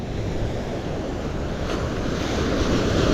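Sea surf rolling onto a shore near a site where a septic pit is being dug, a steady broadband wash of waves with wind noise buffeting the microphone, growing slightly louder toward the end, with no talking.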